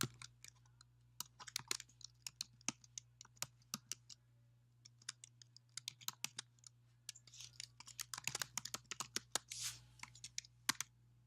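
Typing on a computer keyboard in a quiet room, with irregular bursts of light key clicks, denser near the end, over a faint low hum.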